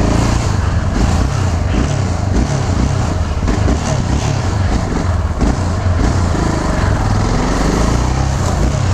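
A motorcycle engine with a hard clutch runs steadily and loudly close by, a continuous rough drone with slight rises in revs throughout, no voices audible.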